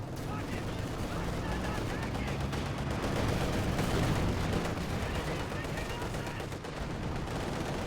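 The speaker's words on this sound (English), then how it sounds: "Mortar dealing here with the MG." Mortar and machine gun fire in a strategy war game form a dense, continuous clatter of rapid shots and thuds, steady and fairly loud throughout, with faint talk mixed underneath.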